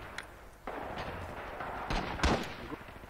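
Tank cannon fire and explosions from the WWII game Red Orchestra 2: Heroes of Stalingrad, several heavy booms and a louder blast near the end, fairly faint amid battle noise.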